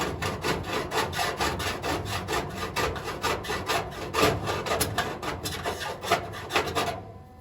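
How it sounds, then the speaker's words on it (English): A regular hand file rasps across the cut metal edge of a 1941 Willys body panel, giving steady, evenly paced strokes, close and clear, that stop just before the end. "Got just a regular file."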